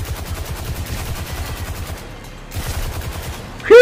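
Rapid automatic gunfire rattles steadily in Destiny 2, with a short pause midway before the bursts resume. A sharp voiced exclamation cuts in right at the end.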